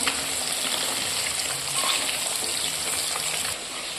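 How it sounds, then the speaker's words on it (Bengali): Pieces of katla fish fry in hot oil in a pan, giving a dense, even, close-up hiss and crackle that drops slightly near the end, with no one talking. "এখন মাছ ভাজা হচ্ছে,"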